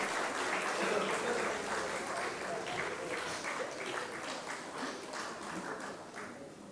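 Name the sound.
audience clapping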